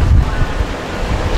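Strong winter wind in Gangwon, South Korea, buffets the microphone with loud, rumbling gusts, heaviest at the start and then a steady, blustery roar.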